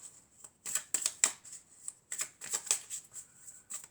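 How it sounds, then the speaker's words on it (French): Tarot cards being shuffled and drawn: crisp, close riffling bursts in uneven clusters with short pauses between, quiet and with no talking. "je vais tirer encore quelques cartes"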